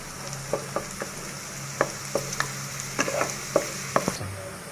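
Beef tripe fries in a modest amount of oil while a spoon stirs it, giving a continuous sizzle with a string of sharp clacks and scrapes against the pan, close and fairly loud, with no talking.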